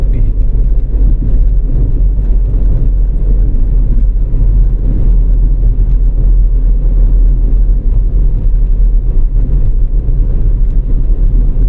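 Steady road traffic on EDSA at Guadalupe, Makati, a broad continuous rumble of cars and engines that holds evenly loud throughout, with no distinct horns or voices standing out.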